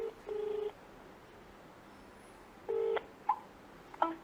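Telephone keypad dialing tones sound as two longer, steady tone bursts separated by a pause, followed by a couple of short blips, all fairly faint against a quiet background.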